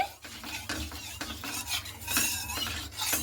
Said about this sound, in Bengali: তেলটাকে কিন্তু খুব সুন্দর করে এইভাবে কড়াইয়ের গায়ে লাগিয়ে নিচ্ছি